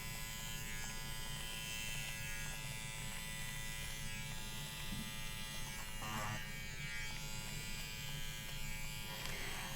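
An electric thread-removing tool drawn across fabric gives off a steady, close electric buzz that holds unbroken throughout, with no voices.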